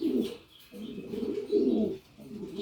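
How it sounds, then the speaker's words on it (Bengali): Pigeons in a breeding loft give soft, low cooing calls, close by, in repeated rolling phrases with short pauses between them. "আসলে একটা অসাধারণ কবুতর।"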